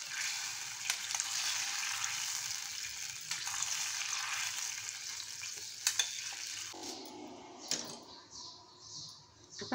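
Hot tadka crackles and sizzles steadily as it is poured over khaman dhokla, a bright hissing fizz that drops to quieter clinks and soft splutters toward the end.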